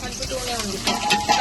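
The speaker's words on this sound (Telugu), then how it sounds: "ట్రాన్స్పరెంట్ అయ్యే వరకు వేయించుకోవాలి" Sliced onions and green chillies frying with whole garam masala spices in a pan, a steady close sizzle with the scrape of stirring running underneath.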